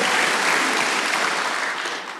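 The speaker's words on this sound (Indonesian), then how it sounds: "Tepuk tangan bagi Allah kita, saudaraku." A church congregation claps together during a worship service, a brief dense burst of applause that tapers off toward the end.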